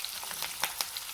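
Onion and curry leaves frying in a pan with a soft, steady hiss and a few brief crackling pops, heard alone for about a second.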